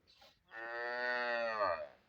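A freshly calved first-timer Friesian cross Cholistani cow lets out a single long, loud, close moo that rises and then trails off, after a brief soft sound.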